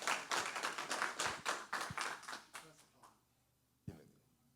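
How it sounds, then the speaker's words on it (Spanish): A church congregation at a Spanish-language service claps for a brother in praise of the Lord. The ragged applause from a small group fades out over about three seconds, followed by a single sharp knock. "Démosle un fuerte aplauso para la gloria del Señor."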